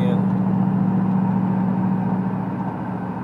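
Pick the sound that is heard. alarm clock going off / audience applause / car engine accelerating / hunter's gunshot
car engine accelerating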